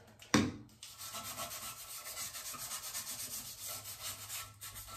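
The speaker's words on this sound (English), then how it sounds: "give it that scrub right around the seal, wipe it all down" Steady scrubbing and rubbing with cleaner around the seal at the base of a household toilet, a continuous close abrasive swishing that runs for several seconds after a brief knock at the start.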